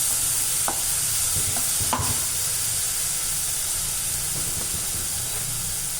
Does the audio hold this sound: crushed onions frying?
yes